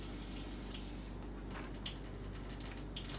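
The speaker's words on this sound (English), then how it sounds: "reduce your water stream to the width of a pencil." A tap running in a thin, pencil-width stream into a sink, a soft steady hiss of water with a few brighter splashes and drips toward the end, quiet and close.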